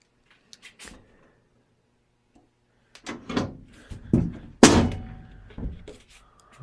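A gun safe door is worked open after a few faint clicks, followed by heavy thunks and a loud metallic clunk of the bolts and door swinging, close by.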